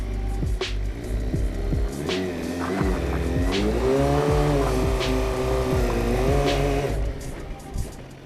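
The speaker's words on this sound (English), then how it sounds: "More revs, let's do it." A motorcycle revs hard while its rear tire spins on a slippery surface, rising and falling engine whine over a steady squealing scrub, loud and close, then cutting back near the end.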